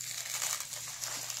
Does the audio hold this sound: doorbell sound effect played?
no